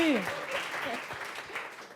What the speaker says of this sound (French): On applaudit aussi évidemment